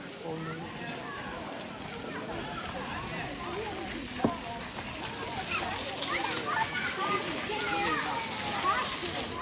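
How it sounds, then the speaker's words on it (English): Water splashes and sloshes steadily at a fountain feature at St. Dominic's Fair in Gdansk, Poland, a continuous outdoor wash with people talking over it and crowd noise around. "Let's go see this water feature."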